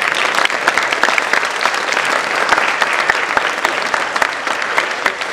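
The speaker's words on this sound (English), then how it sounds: "Mr. Jimenez, a round of applause to him, please" Audience at a school Christmas concert clapping steadily, a dense burst of applause from a full hall sustained for several seconds with no talk over it.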